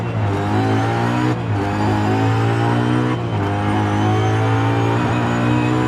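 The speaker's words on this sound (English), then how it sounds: "We're using M3 GTR race car" A BMW M3 GTR race car engine revs loud and steady in Forza Horizon 5, holding a strong droning tone with two brief dips in pitch as it shifts, with no talking.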